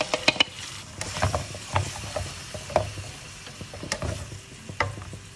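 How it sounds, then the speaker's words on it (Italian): Chopped king prawns and cherry tomatoes sizzle in a hot pan on raised heat, a steady crackle broken by sharp clicks and scrapes of stirring, close and moderately loud with no talk. "mettiamo i gamberoni tagliati a pezzetti in padella, alziamo un po' la fiamma e dopo 30 secondi mettiamo i pomodorini."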